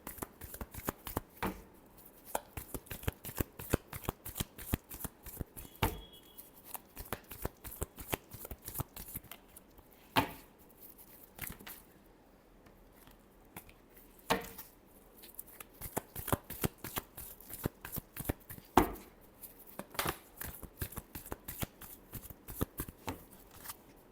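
Tarot cards being shuffled: rapid, close riffling bursts in quick succession, crisp and moderately quiet, with short pauses between flurries.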